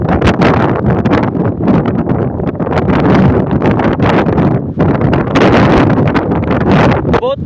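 Strong stormy wind with rain roars continuously outdoors, buffeting the microphone with heavy low rumble and gusts throughout, with no break in the noise.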